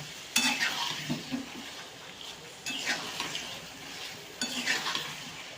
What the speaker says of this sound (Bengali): সুন্দর করে ভাজতে ভাজতে এর সাথে আমি একটু কষিয়ে নেব